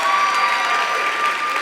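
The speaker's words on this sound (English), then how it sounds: "let's get a round of applause for all of our nominees and award winners" Sustained, dense applause from an audience at an awards ceremony honoring nominees and winners, steady and fairly loud throughout with no talking over it.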